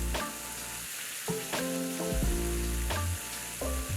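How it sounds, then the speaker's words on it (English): Thinly sliced beef chuck sears in a hot pan with olive oil, giving a steady, close sizzle that swells with a few sharp bursts. Tonal background music plays throughout, with no talking. "Sear your beef lightly in a hot pan with a touch of olive oil"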